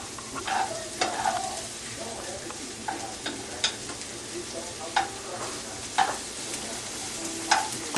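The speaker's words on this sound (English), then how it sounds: "Once you hear it sizzling," Onions and bell peppers sizzle steadily in a pan for a pepperoni polenta pizza, with a soft frying hiss throughout and repeated sharp clicks of stirring.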